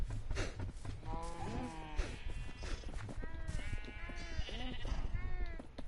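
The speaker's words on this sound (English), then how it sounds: "Now, the sheep." Sheep in the Minecraft video game bleat several times in quick succession, clear and close, with overlapping calls.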